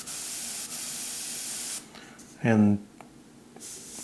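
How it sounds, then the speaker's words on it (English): A single action airbrush spraying at very low air pressure gives a steady soft hiss that stops, followed by a brief burst of speech and a short faint hiss again. "I'm barely using any air pressure"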